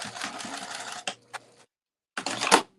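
A sewing machine stitches a clutch wallet in two bursts, a steady whirring run of about a second with short taps after it, then a pause and a second run near the end, close and clear with no talk.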